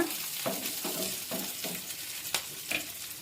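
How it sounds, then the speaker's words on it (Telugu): Curry leaves splutter and fry in hot oil in a pan, with a run of close, sharp crackling bursts at a fairly even rhythm over a faint background. "కరివేపాకు కూడా వేసి కొంచెం చిట్పట్టైన తర్వాత"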